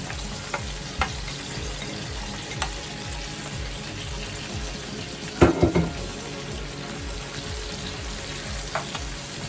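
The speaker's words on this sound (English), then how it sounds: "these are my Brussels sprouts that I steamed a little bit, and I put them right in this bacon fat" Steamed Brussels sprouts fry in bacon fat with a steady, close sizzle and crackle throughout, broken by a louder burst of spitting and stirring about midway.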